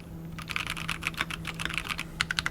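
Rapid typing on a Keychron C3 Pro keyboard with brown switches: a steady, close, uneven patter of crisp key clacks over a low constant hum, with no voices.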